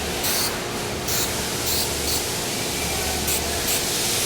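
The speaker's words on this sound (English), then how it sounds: "I'm going to finish off with some rust penetrant. So you want to make sure you shake up the can and then just spray it in there." Aerosol can of rust penetrant sprayed in a series of short hissing bursts over a steady background hiss, close and fairly loud, during preparation of faded car paint for primer.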